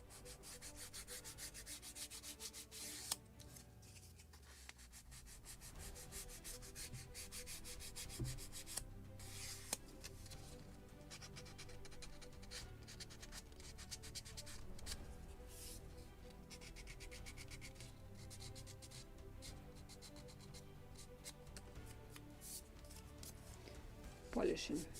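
A small wooden part for a Model Shipways kit of the 1776 gunboat Philadelphia is rubbed and polished by hand in steady, soft scraping strokes up close, with a few sharper knocks and handling clicks.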